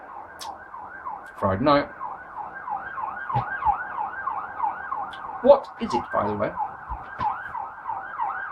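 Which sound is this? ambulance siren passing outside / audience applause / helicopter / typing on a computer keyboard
ambulance siren passing outside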